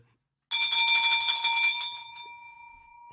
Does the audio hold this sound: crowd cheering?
no